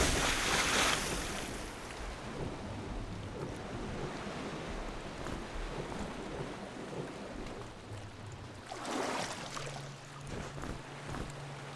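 River water in the dungeon game Legend of Grimrock 2 flows steadily as a soft, continuous wash with gentle surges at the start and near the end, heard alone without talk.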